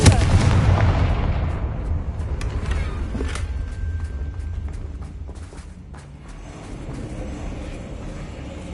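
A Confringo blasting spell exploding in the Hogwarts Legacy video game, one loud booming blast that rolls and decays over several seconds into rumbling debris and scattered crackles.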